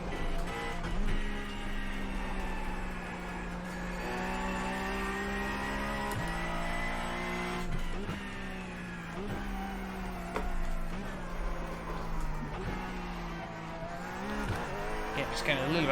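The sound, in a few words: Porsche Cup race car engine and tire squeal in the iRacing video game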